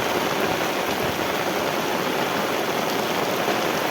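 Dense, steady rush of heavy rain pouring onto a cement road, a loud unbroken hiss filling the whole stretch with no voices.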